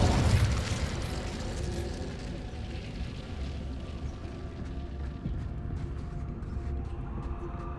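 A fire spell cast in the Hogwarts Legacy game on PS5 bursts out as a loud whooshing blast, then settles into a sustained crackling, rumbling roar that slowly thins out.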